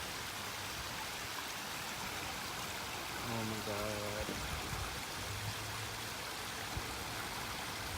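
Steady broadband rush of a flowing water fountain at the World Forestry Center runs throughout, with a brief exclamation from a nearby voice partway through.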